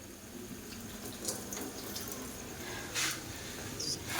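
Water runs from a kitchen tap while hands are washed, a faint continuous splashing hiss broken by a few brief louder spatters.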